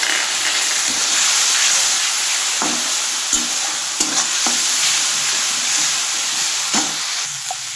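Loud, steady hissing sizzle of a masala paste with salt and turmeric sautéing in a pan after a splash of water, with scattered light stirring scrapes and taps throughout.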